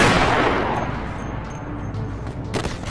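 A loud, dense burst of gunfire at the start, broad and crackling, fading into a lingering rumble with another sharp report near the end.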